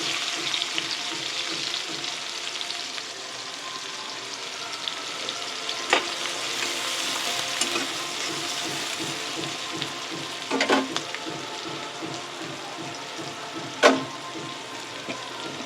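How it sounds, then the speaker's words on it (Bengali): Chopped onions fry in oil for a rohu fish kalia, giving a loud, even sizzle up close, broken by a few sharp scrapes and knocks as they are stirred in the pan; no one speaks. "এর মধ্যে দিয়ে দেবো কুচানো পেঁয়াজ।"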